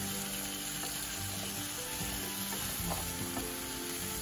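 Fresh broad beans fry in a pot, slowly browning in their own juices: a continuous soft sizzle with occasional stirring clinks, steady and close, no voices.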